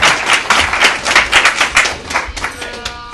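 An audience at a talk show applauds in a quick burst of loud, close hand claps that gradually thin out and soften over a few seconds.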